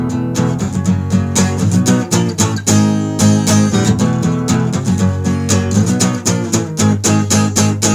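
An electric guitar plays the riff straight through, loud and close, in a steady rhythm of sharply picked, ringing chords and notes with no voices.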